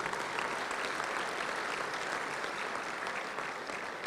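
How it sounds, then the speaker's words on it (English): An audience at a touchdown club luncheon gives a steady round of applause for a young football player, clapping moderately and continuously without speech. "let's give a round of applause for him"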